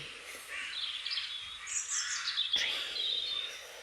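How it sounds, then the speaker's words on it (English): Birds sing and chirp in forest trees, a steady layer of bright high calls and twittering across the whole stretch, moderately near, with no voices. "the birds on the trees"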